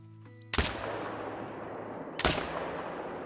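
Two loud rifle shots at a whitetail buck in the hunting game theHunter: Call of the Wild, spaced about a second and a half apart, each a sharp crack with a long rolling echo fading behind it.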